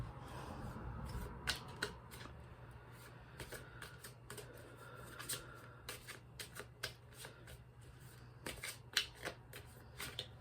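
A deck of reading cards being shuffled close by, with quick riffling bursts and sharp card flicks scattered irregularly over a quiet low hum.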